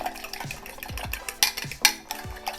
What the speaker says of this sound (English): Just whisk until well combined